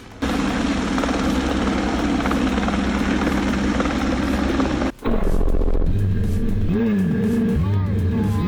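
A-Star helicopter carrying a heavy excavator as a sling load at a job site, a loud continuous rotor and turbine roar with rhythmic blade chop, briefly cutting out midway before returning with a thumping, shifting drone.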